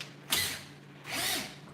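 A handheld drill spins a fluffed cotton swab dipped in toothpaste for polishing, giving two separate whirring bursts of about half a second each, close and moderately loud, with a brief pause between them.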